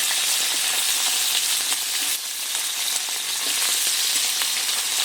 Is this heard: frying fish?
yes